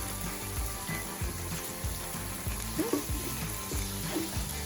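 Low carb chicken cordon bleu frying in a pan, a steady sizzle under a regular low thudding rhythm with a few brief higher clinks, close and moderately loud, no speech.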